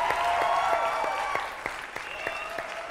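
A live crowd at an Alto Aragón music event applauds warmly for a band, a dense steady wash of clapping with sharper individual claps, fading slightly near the end.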